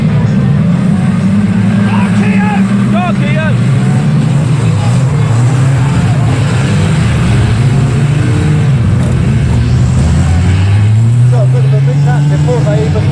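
Racing cars roar past at a race track, a loud continuous engine drone rising and falling as the field goes by, with an announcer talking over it.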